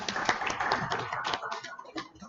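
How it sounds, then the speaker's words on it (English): An audience at a local government convention claps for a panel, a moderately loud, steady patter of many hands with a voice faintly heard beneath. "A round of applause for our panelists."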